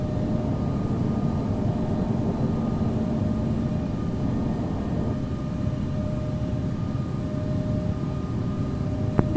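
Cathay Pacific Airbus A330-300 engines hum steadily at departure from runway 23 right at Taiwan Taoyuan, a constant low rumble with faint tonal whines heard from inside the cabin.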